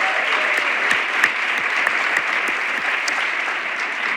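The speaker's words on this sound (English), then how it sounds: "Can we give them one more round of applause?" An audience at a Nashville conference on African-American history and culture gives a steady round of applause, dense and even with a few sharp individual claps standing out.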